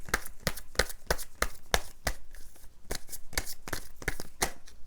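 Tarot cards being shuffled, a rapid run of crisp, close riffling snaps and flicks at a steady quick rhythm, with no talking.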